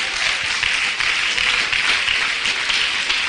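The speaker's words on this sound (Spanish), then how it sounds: "Dale un aplauso al Señor." Church congregation clapping together in sustained applause, a steady dense wash of hands filling the room for a few seconds without a break.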